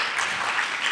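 Audience applause at a playback theatre storytelling performance, a dense continuous patter of many hands clapping, steady and fairly loud for the whole moment with no talk over it.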